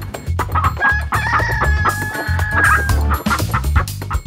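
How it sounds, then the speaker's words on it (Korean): A rooster crows once in a long drawn-out call amid steady clucking from chickens close by, with busy rustling throughout and no talk. "여러분, 닭입니다. 닭."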